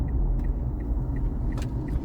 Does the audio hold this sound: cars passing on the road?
yes